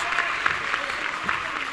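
An indoor basketball crowd at a women's match between Cardiff Met Archers and London Lions applauding and cheering after a made basket, a steady wash of clapping with a few louder peaks, fairly close.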